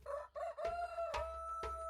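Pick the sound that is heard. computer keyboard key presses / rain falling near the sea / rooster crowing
rooster crowing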